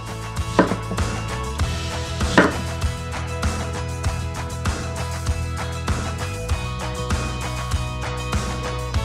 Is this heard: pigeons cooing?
no